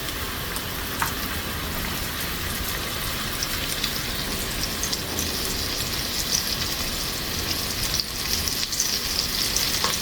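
Breaded chicken frying in a pan of hot oil, a loud, continuous dense sizzle and crackle like heavy rain that stays steady throughout, close up with no talk.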